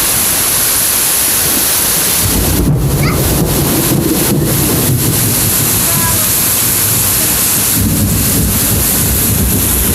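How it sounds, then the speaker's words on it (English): Thunderstorm with constant lightning in Dalton, a steady loud roar of rain and wind with low rumbling thunder swelling in the middle, and faint voices underneath. "Non-stop lightning it is."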